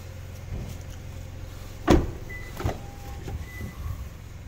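The sunroof motor of a Toyota car runs, a faint electric whir broken by a sharp mechanical thump and a few softer clicks, heard up close in a quiet cabin.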